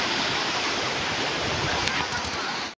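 Rushing stream water near a new bridge in Meghalaya, a loud continuous wash of flowing water that stops abruptly at the end.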